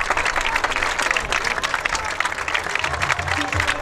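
Crowd at a youth football league final clapping steadily, a dense spread of many hands with some cheering mixed in, fairly loud and sustained, while a voice talks faintly over it.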